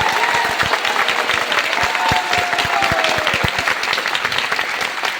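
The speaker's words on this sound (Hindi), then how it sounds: "ताली बजानी है तो जोर से बजाओ, अधूरे होकर मत बजाओ" A crowd at a company leadership and training event claps loudly and hard, sharp individual claps standing out in a continuous roar, with a faint tone drifting underneath.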